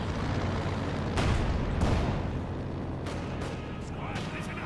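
Bundled grenades from Wehrmacht stormtroopers burst among Soviet troops in Company of Heroes 2, several sharp booms in quick succession amid battle noise, fairly close.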